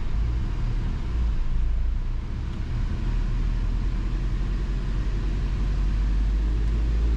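Subaru GR/VA STI being driven while tuned for a stumble, a steady low engine drone and road rumble from inside the car, continuous and fairly loud with no talk.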